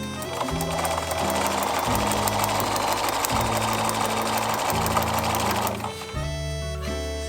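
A sewing machine stitches a seam on a paper pieced quilt block, a steady, loud, continuous motor whir with a low rhythmic hum that runs nearly the whole time and briefly dips near the end before resuming.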